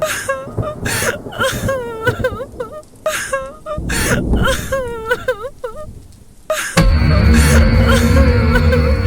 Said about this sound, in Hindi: या फिर किसी लड़की के रोने की आवाज आती है।